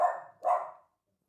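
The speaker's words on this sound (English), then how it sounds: "Sorry about the dog." Two quick barks from a nearby dog, the second slightly louder, followed by silence.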